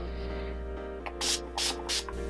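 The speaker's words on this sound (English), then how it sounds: "I'm going to set my makeup with Urban Decay's All Nighter Setting Spray" Urban Decay All Nighter setting spray is misted onto a face in three quick, close hissing bursts over a steady electrical hum.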